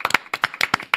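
A studio audience claps briefly to welcome a guest, with a few sharp, close hand claps in an uneven quick rhythm and no talking over them.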